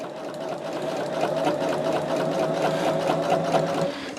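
Sewing machine runs in one continuous burst of rapid stitching, a close, even mechanical whir that stops near the end, with no talking.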